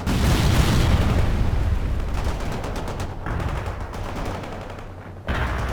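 Rapid gunfire and explosions in a real-time strategy video game battle against insurgents, with dense bursts of shots and booms that ease slightly before a sharp loud volley near the end.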